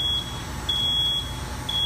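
Repeated high electronic beeps from a fire alarm annunciator panel sound in short bursts over a steady low background hum, with no talking.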